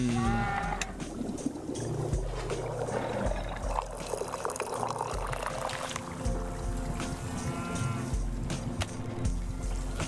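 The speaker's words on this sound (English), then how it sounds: "I'm like, why am I hearing cow?" Cattle lowing drifts through the ambient soundscape of the video game Wanderstop, drawn-out low moos layered over soft background music and faint watery movement, moderate in level across ten seconds.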